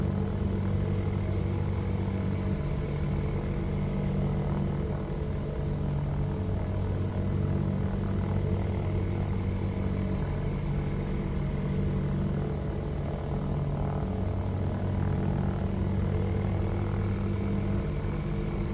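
Steady droning propeller engine of an ultralight Shark UL aircraft in the X-Plane 12 flight simulator, a constant buzzing hum with slight variations in pitch, continuous and moderately loud, no talking.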